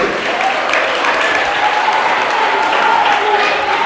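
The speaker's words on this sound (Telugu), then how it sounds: "సింధుకు ఒకసారి గట్టిగా క్లాప్స్ కొట్టాలి." A crowd of children at an orphanage claps loudly and continuously for a girl named Sindhu, a sustained, even wash of applause with a few murmured voices beneath it.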